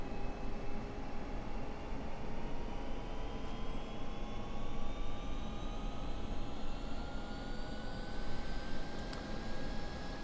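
F-16 jet engine spooling up in the DCS flight simulator, a loud continuous roar with rising whining tones climbing steadily throughout, no voices.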